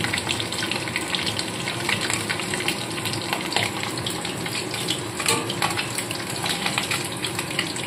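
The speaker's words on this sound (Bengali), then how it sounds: "এইভাবে সব মাছই কিন্তু এক এক করে ভেজে তুলে নিতে হবে।" Small fish frying in hot oil in a pan for a spicy small-fish curry, a steady loud crackling sizzle with brief bursts of spatter running continuously, with no talk.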